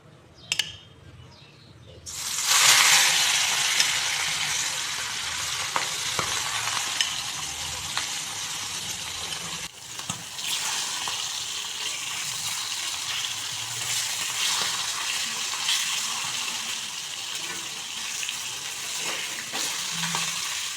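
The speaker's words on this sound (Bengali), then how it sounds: "প্রথমে আমি মাছগুলোকে ভেজে নিচ্ছি। সরিষার তেল দিয়ে রান্নাটা করছি।" Hilsa fish pieces frying in mustard oil, a quiet start giving way after two seconds to a loud, continuous sizzle, close up, with brief spatters and a short break midway before the frying hiss resumes.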